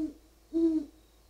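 Two low owl hoots, a brief one then a longer sustained call, close and clear against a quiet background, from a male owl in Vermont.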